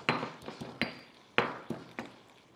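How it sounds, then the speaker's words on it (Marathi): Garlic cloves being crushed for a dal tempering, a series of sharp percussive knocks, roughly seven blows spaced irregularly, close and fairly loud with no talk. "लसूण आपल्याला जस्ट ठेचून घ्यायचा असा"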